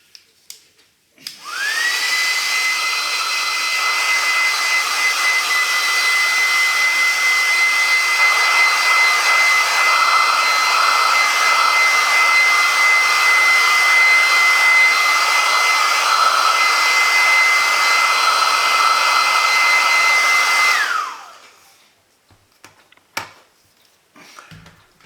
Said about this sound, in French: Donc là, un petit coup de sèche-cheveux.